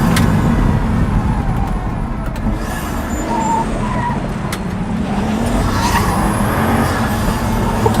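A Pagani Huayra supercar, two-wheel drive, is pushed hard along twisting roads, its engine roaring steadily and loudly up close with brief tyre squeal, no voices over it.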